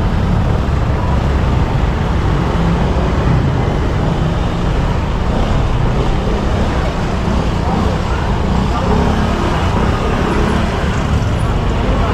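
Holiday-season road traffic at Christmas, a steady loud rumble of passing cars and engines that holds without a break, heard close up from inside the flow of vehicles.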